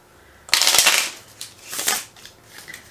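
A deck of playing cards is cut and split by hand, heard as a loud, close riffling burst followed by softer, quicker flutters and slides of the cards, with no talking.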